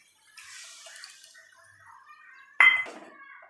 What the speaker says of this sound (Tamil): தேவையான தண்ணி ஊற்றிக்கலாங்க.